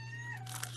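A domestic cat gives a short, faint meow over a steady low electrical hum in a quiet room.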